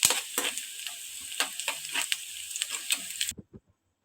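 Onions and curry leaves sizzle steadily in hot oil in a pan for a brinjal fry, a close, bright hiss broken by soft stirring scrapes, cutting off abruptly near the end.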